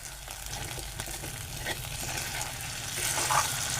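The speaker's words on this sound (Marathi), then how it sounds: "जराशी ढवळून घेऊ भाजी." Ridge gourd vegetable frying in a pan as it is stirred, a close, continuous crackling sizzle with soft scraping strokes that grows slightly louder toward the end, no voices.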